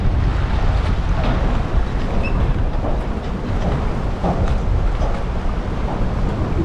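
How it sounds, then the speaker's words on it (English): Gusty wind from Hurricane Helene, hundreds of miles from its eye, blasts steadily against the microphone in a heavy, unbroken roar with occasional sharper buffets and no talking. "Super windy."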